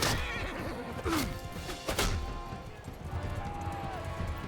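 Horse whinnying in the medieval battle game Mount & Blade II Bannerlord, a couple of sharp neighs rising over busy clashing battle noise, with someone talking now and then.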